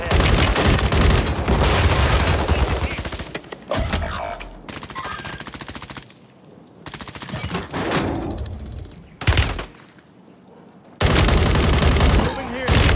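Warzone gunfire crackles in loud sustained bursts of rapid automatic shots, broken by short quieter gaps before the fire resumes, with game voice lines and a player talking between volleys.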